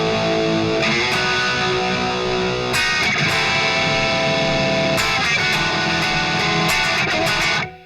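Distorted electric guitar working through a four-bar pre-chorus riff, loud and dense with sharp accents at regular bar points, playing alone before cutting off at the end.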